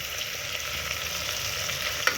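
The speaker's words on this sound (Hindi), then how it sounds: "अब इसको 2-3 मिनट और भूनेंगे" Spiced mutton with coriander powder, garam masala, salt and whole spices fries steadily in a pot for Kashmiri mutton kalia, a continuous close sizzle with faint stirring and one brief clink near the end.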